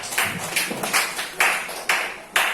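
Several separate bursts of clapping from a few hands, uneven and not very loud, with short gaps between them.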